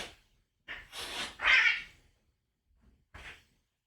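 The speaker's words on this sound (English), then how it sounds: "Cats are fighting." Cats fighting indoors: a few harsh hissing, yowling outbursts, loud and close, separated by short silences, with no talk over them.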